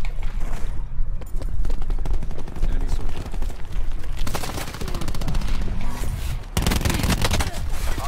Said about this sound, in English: Cluster grenade. Enjoy. Throw that there.